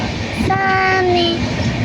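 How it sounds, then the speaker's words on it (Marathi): A train horn sounds loudly for about a second over the rumble of the Konkan Kanya train arriving at Rajapur station in the rainy season, with no talking. "कनकन्या ट्रेन राजापूरला आली आहे"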